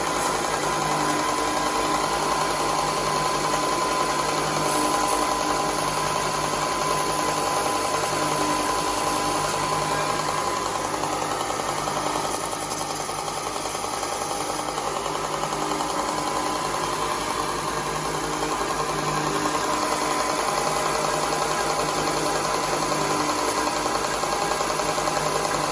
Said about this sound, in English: I want to sand the edges of this just a little bit, just so the fit's not quite so tight.